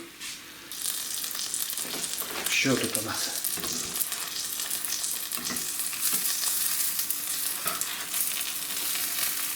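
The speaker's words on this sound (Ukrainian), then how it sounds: "Підсмажую на добре розігрітій сковорідці, обов'язково з олією." Steady sizzling of flatbread frying in hot oil in a pan, close and continuous, with a brief spoken question partway through.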